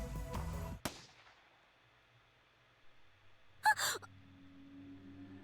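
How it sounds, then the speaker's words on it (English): Single sharp gunshot in the Steins;Gate video game, a sudden loud crack followed by silence, then a brief burst of a gasp and other noises later on. "There really was a gunshot."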